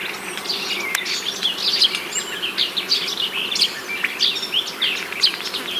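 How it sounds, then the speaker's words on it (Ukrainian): Honeybees buzzing around flowering linden trees, a dense steady hum of many insects close by, with occasional faint bird chirps in the background. "Є така липа, яка тільки не розквітла. На ній бджіл найбільше."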